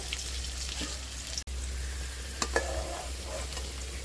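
Potatoes frying in hot oil in a home kitchen, a steady broadband sizzle with occasional stirring clinks and a brief dropout partway through, close and continuous without talk.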